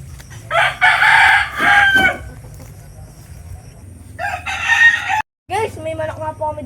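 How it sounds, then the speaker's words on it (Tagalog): A rooster crows twice nearby, long strained cock-a-doodle-doo calls separated by a pause, over a low steady background hum and faint clucking. "Guys, may manok nga po kami dito ng 45 days."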